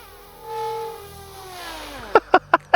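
A Yu Xiang MD 500 Little Bird GPS RC helicopter throttling down to land on snow, its high whining motor tone sliding steadily lower, then four short sharp beeps at the end.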